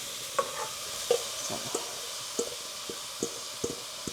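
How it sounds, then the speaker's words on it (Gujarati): Grated carrots tipped into hot ghee for Gujarati carrot halwa, a steady sizzle broken by repeated scraping stirs and small wet squishes, close and fairly loud, with no talk. "સાથે સાથે આપણે ગાજર પણ નાખી દઈએ"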